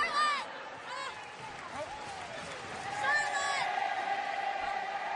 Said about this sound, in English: Raucous crowd sold out here tonight in Glasgow.